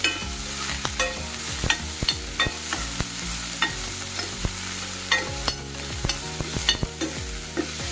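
Curry leaves, green chilli and coriander leaves sizzle and fry in oil in a pan for egg idiyappam, with a steady crackle under repeated sharp stirring clatters of a spoon against the pan.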